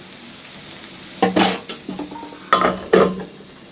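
Carrots and mixed vegetables sprinkled with salt being stirred in a pan, a soft sizzle underneath with several scraping strokes of a spatula against the metal, close and without talk.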